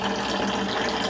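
Water running from a tap fed only by pressure-tank pressure, a steady broadband rush without a hard jet, close and continuous with no voices.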